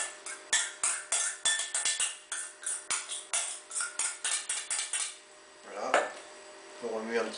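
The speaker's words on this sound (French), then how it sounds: "On remue un petit peu." A utensil stirs a spinach and feta mixture in a bowl, giving a run of sharp clinking scrapes in an uneven rhythm, close and fairly quiet, then a brief pause and some softer rustling near the end.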